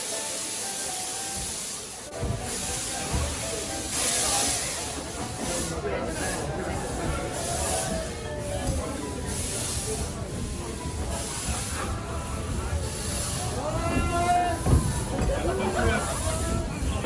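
A steam train on a heritage railway hisses and chuffs as it pulls away during a railway enthusiasts' event, with steady broadband noise throughout and voices talking over it.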